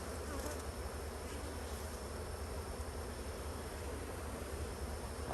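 Honey bees buzz densely around hives in an apiary. A steady, even hum from many insects continues unbroken and fairly faint throughout, with no voices.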